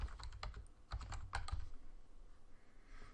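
Keys clatter on a computer keyboard while cells are filled in an Excel spreadsheet, a quick burst of close, crisp clicks in the first half-second or so, then a quieter, sparser patter of taps.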